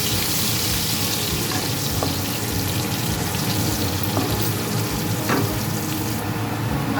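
Potatoes with salt and turmeric fry in hot oil until reddish, producing a loud, dense continuous sizzle up close with occasional sharp pops, alone without any talk.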